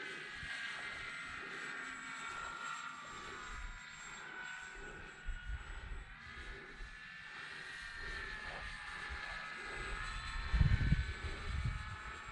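An RC model Hawker Hurricane airplane on a 4S 2200 battery flies overhead, its electric motor a faint, steady high whine with slight swells, and wind buffeting near the end.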